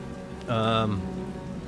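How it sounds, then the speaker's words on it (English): Rain in the War on the Sea naval video game, set in the Pacific, hisses steadily in the background while a brief voiced tone rises over it midway. "We found a lot of rain in this time of year in the Pacific"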